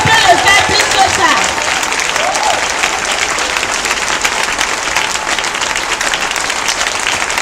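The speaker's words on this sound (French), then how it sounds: "Si ces acclamations sont destinées au Tout-Puissant, tu peux le faire plus que ça" Church congregation breaking into loud, dense applause and acclamations, sustained clapping close and full throughout, with cheering voices rising over it early on.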